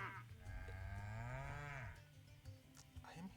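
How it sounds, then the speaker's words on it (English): A cow in a video game lets out one long, loud, close moo that rises and falls in pitch, followed by faint background sounds. "Cows in game. How is there a cow up here?"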